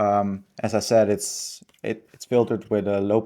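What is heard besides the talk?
No distinct noise like a dog, phone or traffic.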